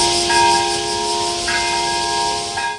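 A memorial bell tolls at a commemoration of the atomic bombing of Nagasaki, its long sustained ringing tones hanging steadily over a hushed crowd, with fresh strikes near 0.3, 1.5 and 2.6 seconds.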